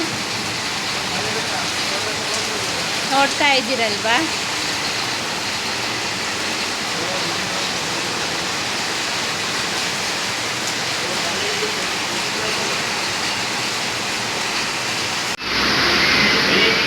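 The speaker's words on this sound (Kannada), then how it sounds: "ಸಿಕ್ಕಾಪಟ್ಟೆ ಮಳೆ ಜೋರು ಇವತ್ತು" Loud, steady rain pours down in Madhugiri in a constant wash of noise, with a person speaking briefly over it.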